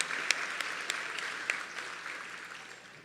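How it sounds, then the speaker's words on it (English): An audience applauds performers on stage at an evening concert during a religious festival program, a steady moderate clapping that gradually fades. "Let us give a round of applause to all of those on stage for sharing their talents"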